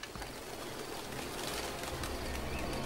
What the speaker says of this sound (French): Une tour et des pigeons.